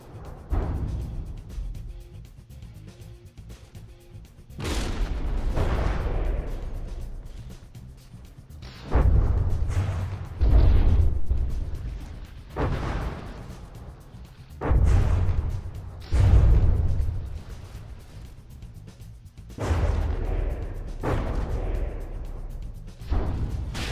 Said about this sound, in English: That front turret just took a direct hit.